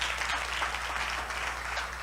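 A church congregation at a ministry service claps together in a sustained, even round of applause lasting a couple of seconds, heard at moderate distance.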